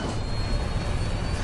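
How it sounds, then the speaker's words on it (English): An airplane diving toward the sea, a loud, dense engine roar and rushing wind noise that stays constant and close, with no voices. "The plane is diving towards the sea."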